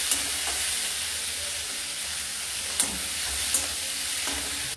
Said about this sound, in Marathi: तो टोमॅटो ऍड करणार आहोत, तो पण पूर्ण विरघळेपर्यंत भाजायचा आहे आपल्याला